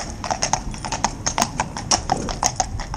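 A Gelderlander horse walking uphill out of town gives a steady, even clip-clop of hooves on a hard surface, close and clear throughout with no talking.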